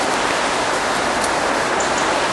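Steady rain falls on a misty, wet autumn day in Wharfedale, a dense, even hiss of drops on surfaces that stays constant and close throughout, with no voices.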